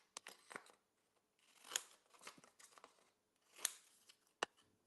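Scissors snip a paper card piece in a series of quick, close cuts in short bursts separated by brief pauses, with faint crisp clicks and no talking.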